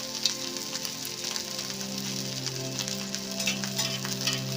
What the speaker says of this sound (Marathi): आता आपण एक एक पॅटीस याच्यामध्ये असे भाजून घेऊया दोन्ही बाजूने चांगले व्यवस्थित खरपूस भाजून घ्यायचे